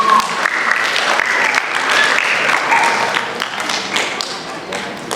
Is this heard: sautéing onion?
no